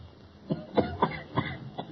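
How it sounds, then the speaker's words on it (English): Coughing from an adjoining room in an old radio drama, a series of about five muffled, somewhat distant coughs in an irregular rhythm, heard alone with no talking. "There's the cough again. It's from the next room."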